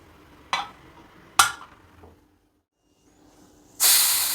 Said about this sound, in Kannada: ಕುಕ್ಕರ್ ಲಿಡ್ ಕ್ಲೋಸ್ ಮಾಡಿ ಒಂದು ಮೂರು ವಿಜಲ್ ಕೂಗ್ಸಿದ್ರೆ ಪೊಂಗಲ್ ರೆಡಿ ಆಗುತ್ತೆ